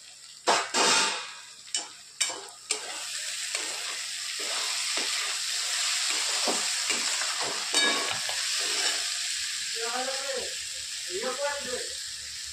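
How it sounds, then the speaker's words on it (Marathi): Potato sautés in a pan for a dry brinjal-and-potato dish, giving a continuous moderate sizzle broken by sharp stirring clicks and scrapes early on, with a faint voice-like murmur toward the end. "एक 5 मिनिटं परतून घेणार आहोत फक्त बटाटा"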